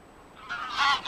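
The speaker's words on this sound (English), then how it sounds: "These are mostly grey-legged geese." Grey-legged geese in the lotus beds of the Volga delta give a couple of close, loud honks that rise out of quiet background ambience, with no talking.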